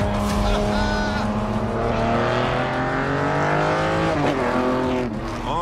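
Aston Martin sports car driven hard on a winding road, its engine note rising and falling through gear changes, loud and close, with a sharp pitch sweep near the end as it passes.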